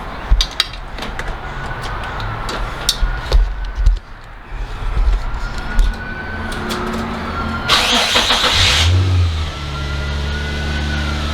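A Nissan G35 fitted with newly installed, not fully welded valved mufflers cranks and starts, with starter clicks, a catch into a burst of revving, then a low steady idle, close by and fairly loud.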